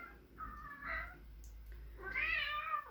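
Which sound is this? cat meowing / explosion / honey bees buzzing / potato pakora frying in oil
cat meowing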